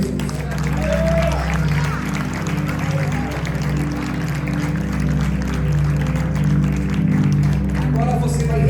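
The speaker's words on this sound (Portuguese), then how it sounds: "aplauda ao Senhor Jesus." A church congregation at a healing service applauds with a broad, rolling wash of clapping, while a preacher's voice and musical tones carry on over it.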